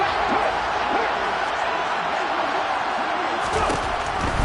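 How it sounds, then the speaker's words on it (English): A football stadium crowd roars steadily and loudly throughout as a team lines up near the goal line on third down, a dense wash of cheering voices with no pauses. "You can already start to hear this crowd."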